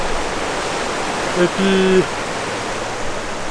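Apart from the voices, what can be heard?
river flowing in the Arctic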